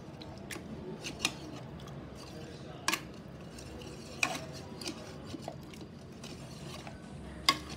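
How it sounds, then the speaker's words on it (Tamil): Cooked manathakkali greens mashed with a masher in a pot, a soft steady squish broken by occasional sharp metallic clicks and taps against the vessel, close and fairly quiet. "இப்போ நல்லா அதை நம்ம இந்த ஸ்மாஷரில் நல்லா அப்படியே கொஞ்சம் மசிச்சு விட்டுக்கலாம்"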